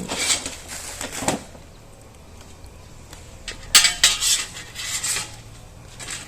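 Metal noodle-blanching baskets from a six-basket noodle cooker clatter and clink as they are handled, with scattered bright metallic knocks that cluster around the middle and end, close by, with no talk.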